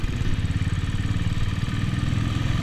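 A motorcycle engine runs steadily during a ride on the road from Manali toward Rohtang Pass, a close, loud, even low rumble with rapid regular pulsing and no talking.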